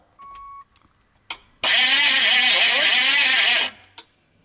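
A short beep and a couple of clicks, then a GMC Vandura van's starter cranks loudly and steadily for about two seconds before cutting off.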